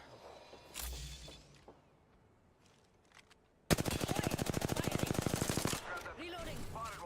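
Gunfire in the battle royale shooter Apex Legends: a few scattered quieter shots, then a loud, close, sustained automatic burst of evenly spaced rounds lasting about two seconds, followed by further action noise.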